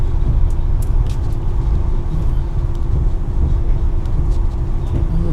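A train rumbles steadily across the Tamar Bridge, a continuous loud low roar of wheels and carriage noise with faint rattles, heard from inside the train.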